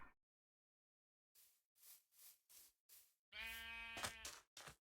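Several short sheep bleats from a Minecraft game, spaced apart and fairly close, followed by a longer, louder bleat and one last brief call, with no talking.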